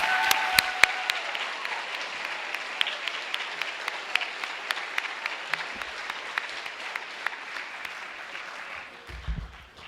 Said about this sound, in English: A big round of applause for them as well, guys.